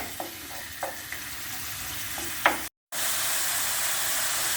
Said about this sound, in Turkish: Şimdi öncelikle kıymamı kavurarak başlıyorum